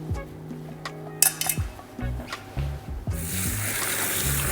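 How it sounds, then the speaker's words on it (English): Organic tomatoes rinsed under running water in a kitchen, with close clinks and knocks of produce against a sink or bowl, ending in a steady hiss of water alone. "So I always start with washing the tomatoes first."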